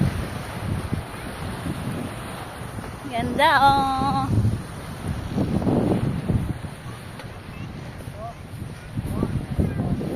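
Sea waves and wind at a beach, a steady wash of surf and gusting wind on the microphone, with people talking and a brief tonal call partway through.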